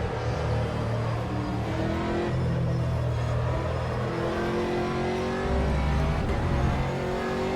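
Racing car engines roar in a sim racing game at Spa, loud and continuous, with pitch rising and falling as a car passes close by and revs hard.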